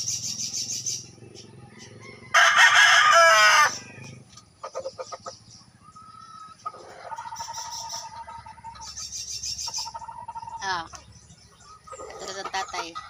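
Chickens cluck and a rooster gives a loud, raspy crow at a rural coop, mixed with other bird calls while a person talks.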